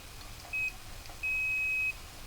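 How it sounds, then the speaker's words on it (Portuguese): Two thin electronic beeps, a short one followed by a longer tone, sound from a multimeter in continuity mode while testing microwave oven parts, over a quiet background. "Vou colocar na escala de BIP."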